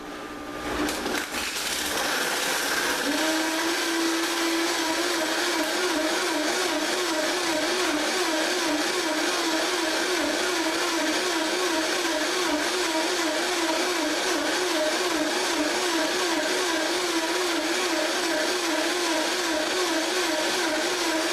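A high-power blender, the Blendtec Total Blender, runs loud and steady for about twenty seconds after a brief start-up, with a constant motor whine and churning roar.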